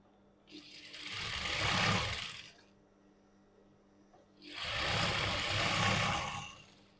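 A sewing machine stitches a Brahmani-style saree in two separate runs, each a close, steady mechanical whirr that builds and then stops, with a quiet pause between them.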